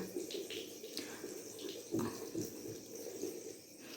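Tap water runs steadily as small hands are rinsed after soaping, a soft continuous splashing stream with a few brief louder spatters, close by in an indoor sink.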